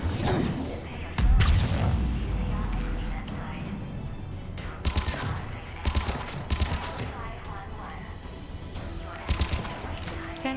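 Rapid bursts of turret gunfire in a video game crackle through a busy, noisy firefight, with repeated loud volleys and other shots and booms layered over continuous battle din.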